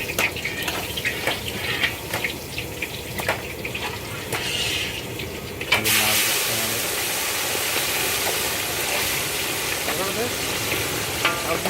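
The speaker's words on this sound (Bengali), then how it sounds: "এদিকে মাছ ভাজা হচ্ছে" Fish frying in hot oil in a Bengali home kitchen, a dense continuous sizzle with scattered clicks and stirring clatter, louder and steadier in the second half, with background engine-like hum.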